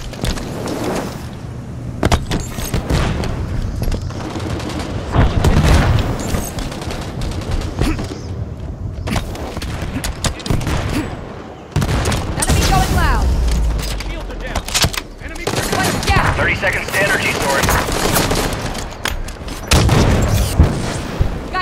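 Rapid bursts of gunfire and explosions in the Halo 5 video game, with loud repeated shots and booms throughout, under intermittent game voice callouts.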